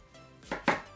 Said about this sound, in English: First of all, I'm gonna cut an onion.